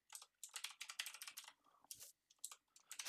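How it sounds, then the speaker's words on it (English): Rapid typing on a computer keyboard, close and crisp, with irregular bursts of key clicks and brief pauses, fairly quiet overall. "I'll type that one."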